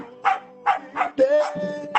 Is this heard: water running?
no